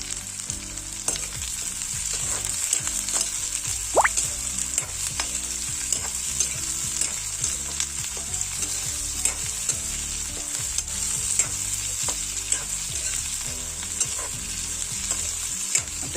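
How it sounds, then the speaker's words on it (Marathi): Chopped onion and capsicum sizzling steadily as they are stirred and sautéed in a hot pan while cooking a mudskipper chilli dish, with continuous frying hiss and scattered scraping clicks of the spoon. "आता व्यवस्थित परतून घ्यायचा, भाजून घ्यायचा"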